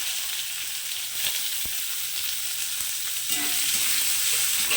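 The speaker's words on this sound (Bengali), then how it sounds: "পেঁয়াজটাকে আমি একটু লাল লাল করে ভেজে দেবো" Long-sliced onions frying in hot oil in a pan, a steady close sizzle with occasional stirring clicks, no voices.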